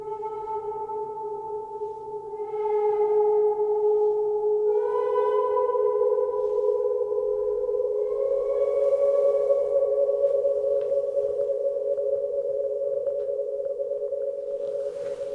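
Flumi flute played from further down the shaft, giving sustained breathy whistle-like tones that slide between a few pitches, close and steady, with no talking.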